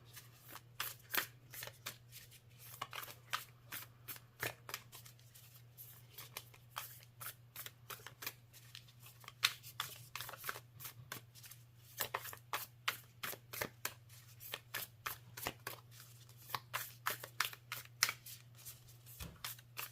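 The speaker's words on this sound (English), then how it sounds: "we listen to the cards shuffle" Tarot cards being shuffled over and over, crisp riffling bursts in a steady rhythm, close and fairly quiet, with a low hum underneath and no talking.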